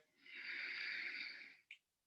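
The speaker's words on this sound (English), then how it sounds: "Deeply breathing." A single long, slow breath during a yoga pose, drawn steadily for about a second and a half as a soft close airy hiss, ending with a brief sharp sniff or release.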